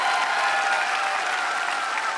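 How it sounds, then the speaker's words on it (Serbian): A studio audience on a TV entertainment show applauds in a steady, dense wash of clapping that stays full and even for the whole stretch, with no voices over it. "Molim još jedan aplauz za Zokija"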